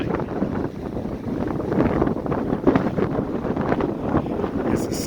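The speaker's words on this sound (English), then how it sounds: "As the sun sets on another windy day here in Cheyenne, Wyoming." Strong wind buffeting at solar PV trackers in Cheyenne, Wyoming, a continuous roaring gusty rush with microphone wind noise and rustling, fairly loud and alone.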